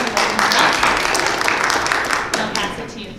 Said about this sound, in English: If we could have a little round of applause.